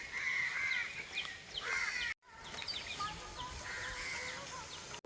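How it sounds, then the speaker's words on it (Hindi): Crows cawing repeatedly around a riverside village on the Narmada bank in India, harsh calls overlapping with other birds, fairly close and continuous apart from a brief dropout. "कौवे"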